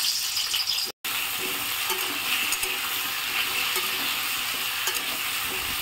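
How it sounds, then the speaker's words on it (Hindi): Pumpkin pieces fry in hot oil left in the pan after frying vadi, a loud, continuous close sizzle with a faint rattling stir through it, briefly cut by a moment of silence near the start. "ये देखिए, सेम तेल में मैं इसे भूंज ले रही हूँ"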